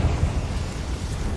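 A Confringo fire-blast spell goes off in Hogwarts Legacy, a dense low rumbling burst that roars loudly and holds steady for over a second with no voices over it.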